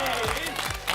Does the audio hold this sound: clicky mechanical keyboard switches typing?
no